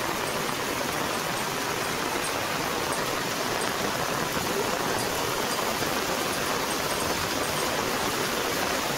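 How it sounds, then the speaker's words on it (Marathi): Heavy rain pouring down in a dense, constant hiss with no breaks, steady and loud throughout. "बघा किती जोरात पाऊस पडता तो."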